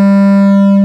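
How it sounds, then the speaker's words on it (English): An ABC subwoofer box plays a loud, steady low sine-wave test tone that holds unchanged for just under a second and then cuts off abruptly. "It's a lot cleaner sine wave."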